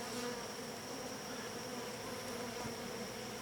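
Honeybees in a hybrid beehive give off a steady, dense buzzing drone, quiet and continuous without pause, with no voices over it.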